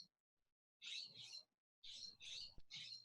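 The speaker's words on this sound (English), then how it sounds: "I love hearing the birds, Ted. They're wonderful." Birds singing outdoors in short, bright bursts of chirping, with three or four phrases separated by brief pauses, moderately close and fairly quiet against a still background.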